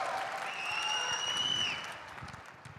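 An audience at the Joy Forum 2025 conference claps in a full round of applause that softens toward the end, with a sustained high tone gliding over it.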